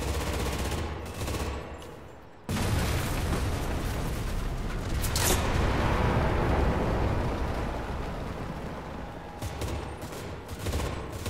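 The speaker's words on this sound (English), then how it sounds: "Call in artillery!" Heavy artillery strike explosions in the World War II shooter game Enlisted, a dense, loud rumbling barrage of blasts and gunfire that drops briefly, then resumes in a continuous roar with sharp bursts throughout.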